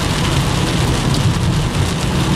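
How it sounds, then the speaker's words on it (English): Heavy rain pours during a Florida thunderstorm in July, a dense loud roar with low rumbling underneath, steady throughout with no voices. "I think I am just behind the main line of storms."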